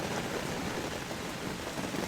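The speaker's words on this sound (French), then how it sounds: "Eh bien voilà Madame la pluie qui ressurgit." Steady rain falls in a dense, continuous hiss with no voices, soft and even throughout.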